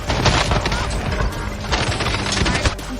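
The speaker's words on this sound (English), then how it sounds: "Why are the fireworks still shooting at me?" Fireworks keep firing in a video game battle, a dense run of sharp popping and crackling bursts at an irregular rapid rhythm, loud and close.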